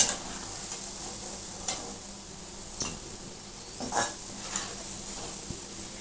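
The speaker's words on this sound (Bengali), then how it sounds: "পেঁয়াজটাকে সুন্দর করে কেটে এটাকে ভালো করে আমি একটু ভেজে নিচ্ছি।" Sliced onions fry in a pan with a soft, steady sizzle, punctuated by several scraping stirs of a utensil against the pan at irregular intervals, with no voices.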